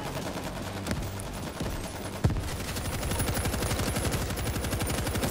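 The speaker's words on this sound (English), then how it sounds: "Machine gun is set." A machine gun turret in World War Z opens up in sustained rapid bursts, loud and close, after a few scattered shots and impacts, with no talk over it.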